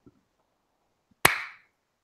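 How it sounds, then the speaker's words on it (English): A single sharp hand clap rings out close by in an otherwise quiet room during a podcast recording, a crisp isolated smack that fades quickly. "Oh, that was a good clap."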